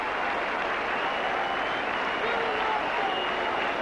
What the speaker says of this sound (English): They're all clapping each other out there.